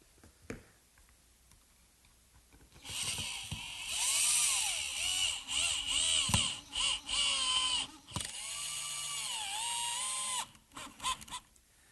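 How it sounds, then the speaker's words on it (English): A power drill bores pilot holes into hard oak at a workbench: several whining, pitch-shifting bursts of the motor close up, separated by short pauses and clicks, with no talking. "on this oak, it's critical to cut pilot holes"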